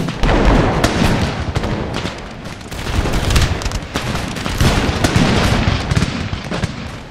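Massed musket volleys ring out in Empire: Total War, a dense, loud crackling fusillade of overlapping shots rolling on continuously with small swells and dips.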